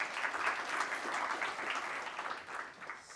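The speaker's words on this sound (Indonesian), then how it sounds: "Kita berikan aplaus dulu." Continuous applause from an audience at an advocates' swearing-in ceremony in Jakarta, a dense, steady patter of many hands clapping together, moderately loud, with no talking over it.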